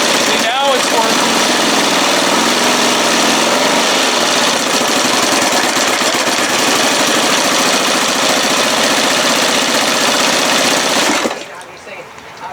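A 1974 Johnson 25 hp outboard motor runs loud and close with a rapid, rattling buzz for about eleven seconds, then cuts out abruptly, leaving quieter background sound.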